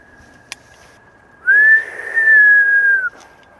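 A single sustained human whistle, clear and steady with a slight pitch dip and brief break, loud and close against near silence.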